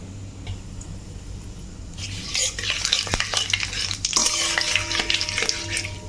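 Two dried red chillies, panch phoron and two bay leaves hit hot oil for a mango pickle tempering; quiet at first, then a sudden loud crackling sizzle with stirring and clinks of a utensil against the pan.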